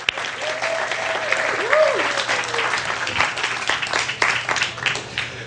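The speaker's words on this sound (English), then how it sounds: "let's give him a round of applause." Audience applause in a live hypnosis seminar room, a steady burst of clapping from a crowd lasting several seconds, with a brief voice sounding over it near the start.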